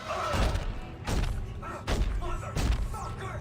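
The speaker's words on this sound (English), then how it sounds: "Need to hear more Isaac Clarke stomping grunts" Isaac Clarke stomps in the sci-fi horror game Dead Space 2: four heavy, muffled thuds land at roughly even intervals, each a close, deep impact with a brief grunting edge, standing alone without talk.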